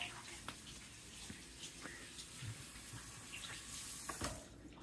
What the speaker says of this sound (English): Let me rinse my hands off while we're waiting on that to heat up.